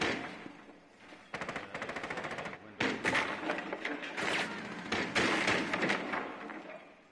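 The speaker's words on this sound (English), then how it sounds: "They're shooting from downstairs." Gunfire from downstairs, rapid bursts of automatic shots mixed with heavy thuds, loud and close, rattling on in dense clusters through the whole stretch.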